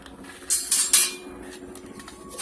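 Metal parts of a Flatpit fire pit clink and clatter as it is pulled apart, several sharp bright knocks close together followed by a lighter clink.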